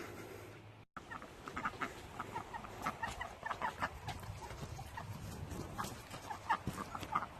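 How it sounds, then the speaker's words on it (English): Ducks quack repeatedly outdoors in short, busy bursts of calls that carry on steadily from start to finish, with a sharp knock near the beginning. "Hey, ducks."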